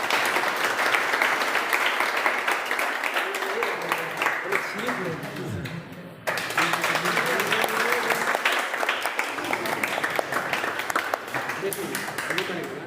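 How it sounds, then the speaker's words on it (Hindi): Loud, sustained applause from an audience gathered to welcome a newly selected police sub-inspector in Bihar, steady clapping filling the whole stretch with a short dip midway. "जोरदार तालियों के साथ उनका स्वागत करेंगे"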